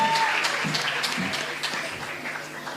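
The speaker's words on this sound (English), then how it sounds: "Can we please have a round of applause for this vital team?" An audience at a Year 11 school prize giving ceremony claps in a sustained round of applause that slowly fades, with a faint voice underneath.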